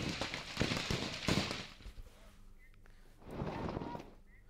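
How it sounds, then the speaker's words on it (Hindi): Firecrackers bursting in a burning fireworks shop during Diwali, a crackling run of rapid pops and bangs that fades, then flares up again with a second burst of crackle, heard at some distance with wind noise. "काफ़ी देर तक आग में जो पटाखे हैं वो इसी तरह से जलते रहे"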